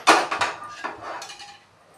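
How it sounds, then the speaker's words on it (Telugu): Pan set down on a kitchen stove while ghee-fried bitter gourd is being made, several close clattering metallic knocks in quick succession, the first loudest, with no talk. "స్టవ్ వెలిగించి పాన్ పెట్టుకోండి."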